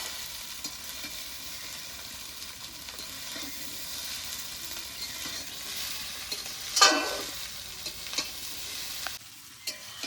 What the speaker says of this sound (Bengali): এরপর নেড়ে চেড়ে চাউমিনের সাথে ভালো করে ডিমটাকে মিশিয়ে দেবো।